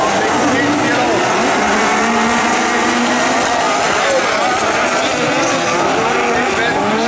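Turbo-powered super buggy race cars launching from the start at a Seelow heat, a dense, loud wall of high revving engines and whining turbos held continuously with several cars overlapping, a commentator talking over it.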